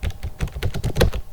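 Quick, close clatter of fingers typing on a computer keyboard, a burst of about a dozen crisp key taps in uneven rhythm, with no one talking.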